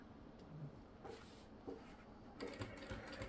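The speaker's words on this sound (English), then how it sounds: "do a couple of stitches around, lift the foot, move it around, a couple of stitches, lift and move" A sewing machine stitches a few short bursts at a time around a corner of an iron caddy, with pauses between runs as the foot is lifted and the fabric turned; quiet, close and mechanical.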